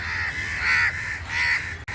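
Crows give two loud, harsh caws in quick succession, close by, with a brief pause between them and no voices.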